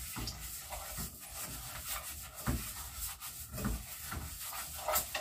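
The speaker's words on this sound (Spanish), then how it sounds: "Se revuelve el arroz." Rice is stirred in a pot, making a close, continuous scraping and rubbing with repeated strokes and a rough, grainy texture.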